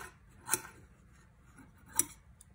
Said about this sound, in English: I'm going to take my scissors, run it across, make it nice and even